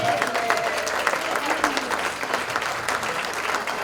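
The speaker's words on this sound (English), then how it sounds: "Let's give them all a round of applause for this wonderful evening." A crowd applauds steadily, many hands clapping together in a continuous wash, with faint murmuring underneath.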